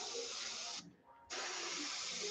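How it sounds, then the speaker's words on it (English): Spray gun spraying white pearl paint through mesh onto a shad glidebait lure, a close, steady airy hiss that stops for about half a second and then resumes. "it can be kind of hard to tell how much you're spraying when you're going through mesh with white pearl"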